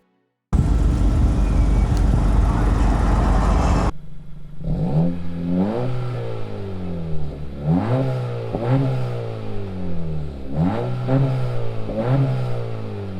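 A 2023 Acura Integra A-Spec's engine and exhaust, heard from close by: a broad roaring burst for a few seconds, then three or four separate revs that climb and fall back to a steady idle.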